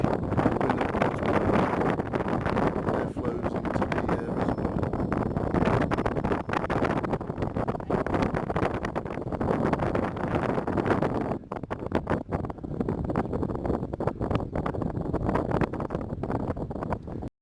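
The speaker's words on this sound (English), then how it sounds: "Oh, it's windy." Strong wind buffets the microphone in a constant loud roar on a hike near the Glenmore reservoir, with gusty rumbling and no talking.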